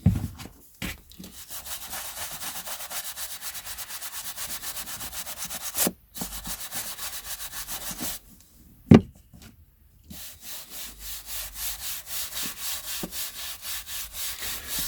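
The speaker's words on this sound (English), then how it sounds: "just need the occasional extra bit of polishing on the top, or not polishing but brushing on the top" Dust brushed off the top edges of vintage Penguin paperback books, a steady, close scratchy rubbing in long rhythmic strokes, pausing briefly and resuming with a faster, evenly pulsing brushing.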